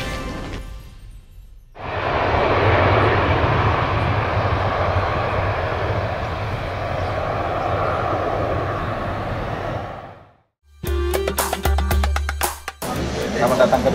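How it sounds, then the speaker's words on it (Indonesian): A passenger airplane's jet engines roar in a loud, steady wash for about eight seconds on a flight to Dubai, then cut abruptly into a burst of other noise. "Kita naik pesawat."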